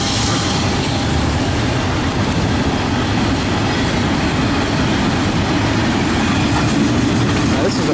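A long freight train with a DPU locomotive, number 8121, rolls steadily past close by, a continuous loud rumble of wheels and cars with faint clacking throughout.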